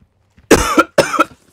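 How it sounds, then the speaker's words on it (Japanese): Two harsh, close coughs in quick succession, each a short broadband burst, with silence around them, from a player of Resident Evil 4 Remake. "ビビりすぎて。 咳が止まらん。"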